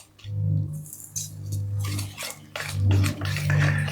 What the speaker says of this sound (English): we're gonna start mixing the wet and the dry